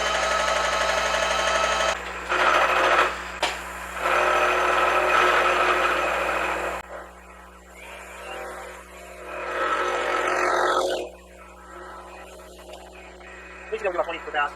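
A power hammer die is milled with a 1.5 inch three-cutter TPG insert mill, a loud steady machining drone with a constant low hum that shifts pitch partway through, then drops away near the end.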